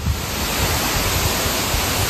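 A jungle waterfall pours as a dense, steady roar of rushing water, broadband and unbroken, heard close with no voices.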